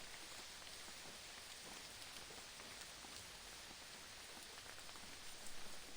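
Steady rain falls in a visual novel game, an even, dense hiss of drops that continues unbroken and fairly faint throughout, with no voices.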